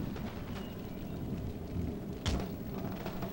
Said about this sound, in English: Oh, the rain. We have a problem with the muskets.